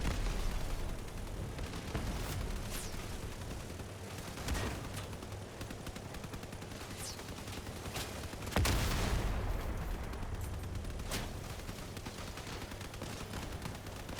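Heavy machine gun fire in the vehicle combat game Crossout: dense, sustained rattling bursts with booming impacts and explosions, loud and continuous for the whole stretch with no talking.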